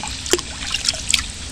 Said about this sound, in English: Now let's put water.